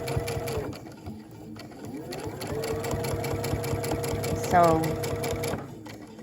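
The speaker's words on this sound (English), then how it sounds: "you see I'm just stitching along there and then folding it back over and then stitching along some more" Sewing machine with an open toe foot stitching binding onto the front of a quilt: a steady, close mechanical whir and chatter runs throughout, briefly pausing and resuming, with someone talking over it.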